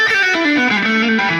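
Electric guitar played through a distortion effect, a short run of thick, buzzing, sustained notes stepping downward in pitch, loud and close.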